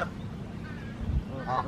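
A few geese honk by a park lake, brief nasal calls at the start and end over a low outdoor background.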